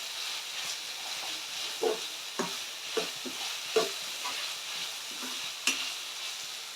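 Vegetables and onion for Hakka noodles cook covered in a pan, giving a steady soft hiss and sizzle with scattered faint clicks and a few brief stirring knocks.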